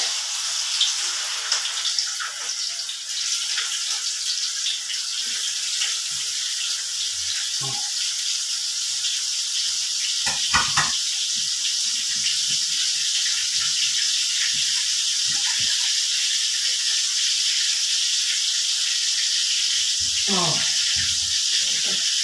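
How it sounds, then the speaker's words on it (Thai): Fermented pork ribs sizzle in hot oil in a pan, a dense, steady hiss and crackle close up, with occasional louder pops and clatter of utensils as a voice talks over it. "น้ำมันร้อนแล้วใส่ไปเลย"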